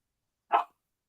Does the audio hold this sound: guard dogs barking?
yes